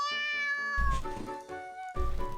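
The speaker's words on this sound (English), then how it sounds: "I hear a little meow from below me" A cat meows repeatedly in the video game You and Me and Her, clear drawn-out cries over a steady sustained musical tone, with soft thumping bass hits underneath.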